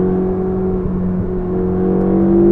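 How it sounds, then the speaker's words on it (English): Ferrari 488 GTB turbocharged engine pulling hard under acceleration, a loud, steady droning tone from inside the car that gradually rises toward the end. "I know people don't like turbos because they say they ruin the sound, but this thing sounds pretty Ferrari-ish to me."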